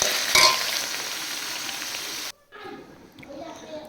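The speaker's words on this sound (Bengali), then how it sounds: "ফ্রিজ থেকে পনিরগুলো নিয়ে আসলাম এবার হালকা করে ভেজে নেব" Paneer lightly fried in a pan, a loud steady frying hiss that cuts off abruptly partway, followed by quieter kitchen sounds.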